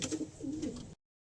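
Pigeons give a soft, close, throaty coo lasting under a second, and then everything goes silent.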